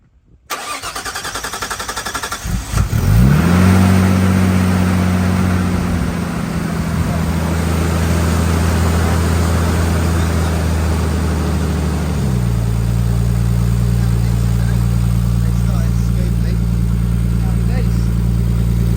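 A Nissan Skyline R33 engine cranks and starts, then settles into a steady, loud idle that drops slightly in pitch as it keeps running.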